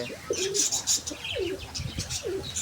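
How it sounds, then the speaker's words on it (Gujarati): Pigeons coo repeatedly in short rising-and-falling calls, close by, with bright chirps and light wing flutters mixed in. "કાકડી કબૂતર આપણે હારે બેસી ગયું છે"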